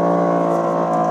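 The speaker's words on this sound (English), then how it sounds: "Mega noise from the exhaust at all times" Aston Martin Vantage F1 Edition, a front-engined rear-wheel-drive sports car, droning loudly and steadily through its exhaust on a race track, a sustained rich engine tone holding without a break.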